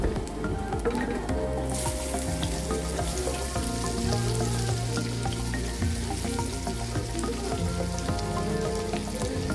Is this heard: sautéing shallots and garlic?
yes